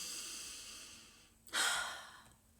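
One deep breath drawn in and released, a breathy inhale-exhale rising sharply and then fading, close to the microphone over a faint steady background hum.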